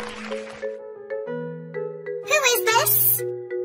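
A doorbell chimes a short electronic melody of stepped tones, and a high, childlike voice speaks briefly partway through.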